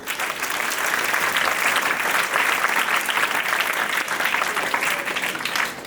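Sustained applause fills a Vedic speech competition hall at a gurukul, dense and steady clapping from a large audience throughout, with no voices breaking through.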